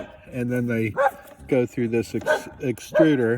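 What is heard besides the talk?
dog barking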